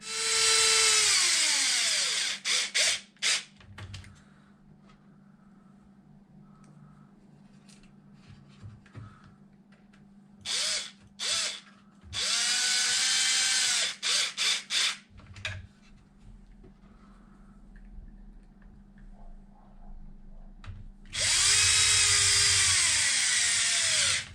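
Power drill driving screws into Traxxas Xmaxx RC truck control arms, several loud whirring bursts of varying length separated by pauses and faint handling clicks.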